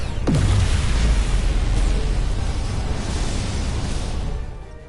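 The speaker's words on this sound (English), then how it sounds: "Dilithium explosion!" A dilithium crystal struck by a phaser shot in the Star Trek: Resurgence video game bursts with a sudden loud boom, then a deep rumbling roar that holds for several seconds before fading out.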